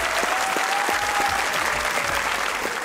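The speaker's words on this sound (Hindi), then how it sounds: "तालियां होनी चाहिए फवाद भाई के लिए एक बार।" Studio audience applauding a guest, Pakistani cricketer Fawad Alam, on a comedy talk show; steady, dense clapping fills the whole stretch at even loudness, with a faint sustained tone running beneath it.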